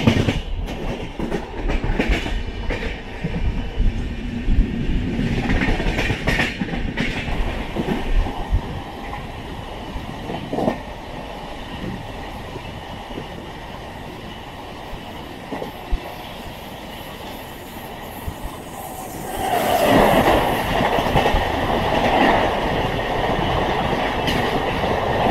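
The Sanghamitra Express passes along a railway line in a long, loud, close rumble of wheels with clickety-clack over rail joints, swelling louder toward the end.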